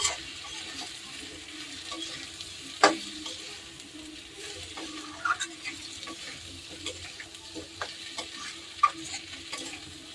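Spice paste for a tilapia curry with green chillies stirs and fries in a pan, a low steady sizzle under scattered scraping and clinking taps of a spoon, with no voices.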